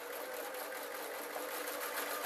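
A sewing machine stitching cotton pillow case fabric with a small stitch, running in a steady continuous whir throughout, close and without pauses.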